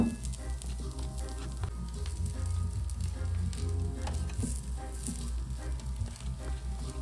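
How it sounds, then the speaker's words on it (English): Bread toasts in a hot pan for a turkey cheeseburger, giving off a continuous close sizzle with light crackles over background music. "So I'm gonna put it aside and I'm gonna toast my bread"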